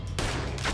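Gunfire in a Red Dead Redemption 2 shootout, two loud close shots about half a second apart, each a sharp crack with a short rumbling tail over a low background rumble.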